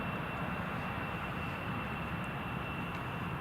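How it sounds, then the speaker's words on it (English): British Airways airliner at Newcastle International Airport, heard as a steady, fairly faint broadband engine rumble that holds evenly throughout, distant and partly veiled by misty morning air, with no talking. "There's the British Airways."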